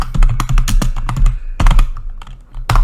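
Rapid, loud keystrokes on a computer keyboard, an irregular burst of sharp clicks ending in a firm press of the Enter key, close up with no voices.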